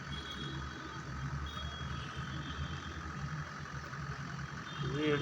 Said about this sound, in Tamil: இன்ஜின் சவுண்ட் எல்லாம் பாருங்கள், எல்லாமே நல்லாயிருக்கும், ஒன்றும் பிரச்சனை இல்லை.